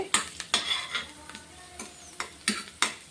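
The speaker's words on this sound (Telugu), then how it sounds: "ఉల్లిపాయ వేగిపోయింది ఇప్పుడు కొంచెం అల్లం వెల్లుల్లి వేసుకుందాం" Onions frying in a pan with repeated stirring, a spoon scraping and tapping the metal in irregular strokes over a soft sizzle, close and without speech.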